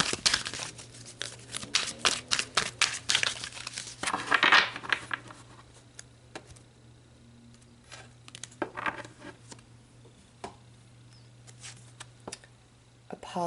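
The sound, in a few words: tarot cards being shuffled and pulled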